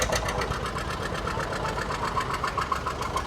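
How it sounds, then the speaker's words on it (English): A small 1978 Case 222 garden tractor engine runs steadily at a show, its loud, continuous knocking chug close and unbroken, with no voices over it. "this is a 1978, this is a little case 222 garden tractor"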